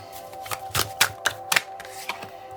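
A quick run of crisp, close clicks and riffles of a tarot deck being shuffled, over a faint steady hum.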